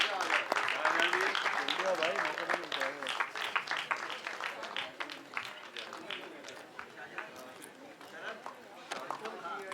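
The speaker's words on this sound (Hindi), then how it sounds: "इस पूरी टीम के लिए एक बार जोरदार तालियां." Applause from the crowd at a film trailer launch event, a large room of clapping that is strong at first and gradually thins, with people talking and calling out over it.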